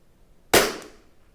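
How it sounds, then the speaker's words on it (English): A single sharp crack from a Tikka T1x .22 LR rimfire rifle, close and loud, with a quick decaying tail into quiet outdoor air. "I'm just going to shoot to the right of the dot."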